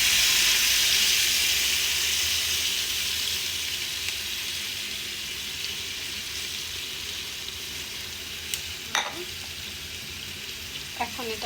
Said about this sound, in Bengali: এখন একটু গরম পানি দিয়ে দিব